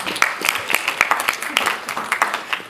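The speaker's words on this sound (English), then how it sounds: "Let's give him a round of applause, please." Scattered applause from a student engineering conference audience greets a speaker, with individual claps standing out and voices talking over it throughout.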